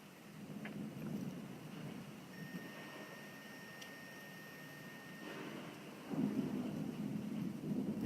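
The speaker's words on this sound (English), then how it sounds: "Yeah, these storms mean business" A strong thunderstorm at a home in Hoover, Alabama, with low, rolling thunder rumbling under steady rain that swells louder toward the end, heard alone with no talking.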